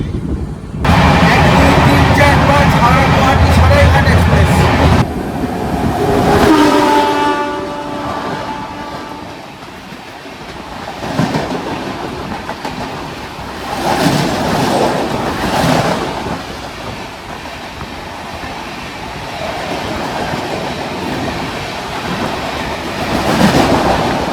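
The 12304 New Delhi–Howrah Poorva Express passenger train rumbles loudly along the tracks in India with a steady roar, a horn-like tonal blast early on, then rattling and clacking as the cars roll past.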